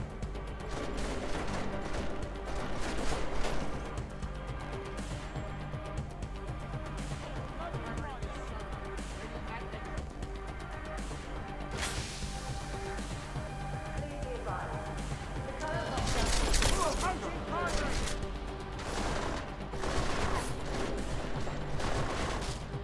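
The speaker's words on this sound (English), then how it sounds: "Oh, do you see the bullets flying there?" Gunfire in Deus Ex: Mankind Divided, with shots and bullets crackling in scattered bursts through dense, busy game sound, growing heavier for a moment near the end.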